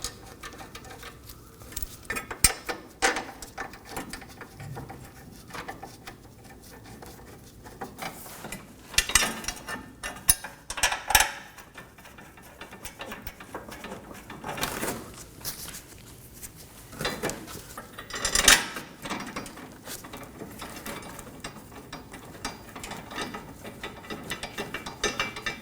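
Ratchet wrench with a 14mm socket snugging down the subframe-to-frame bracket fasteners on a 2020 Toyota Corolla's front suspension, with repeated close clicking pawl bursts at an uneven pace across the whole stretch, no talking.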